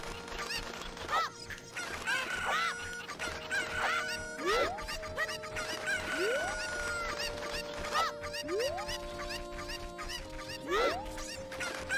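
Chickens in Zelda: Ocarina of Time cluck and squawk repeatedly, with several short bursts and rising squeals over game music and effects, rather faint overall.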